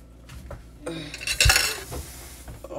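Vincy pelau is stirred in a pot, with a metal spoon knocking and scraping against the pot in a run of clanks, the loudest clatter in the middle, close and alone.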